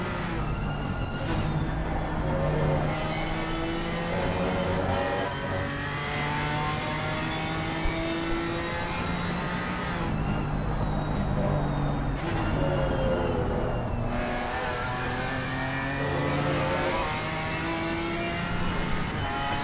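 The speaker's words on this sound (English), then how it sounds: "Revs his way through that third gear up into the fourth" A simulated racing car engine at Imola revs steadily up through the gears, each upshift marked by a falling then climbing whine. The engine note continues unbroken and fairly loud throughout.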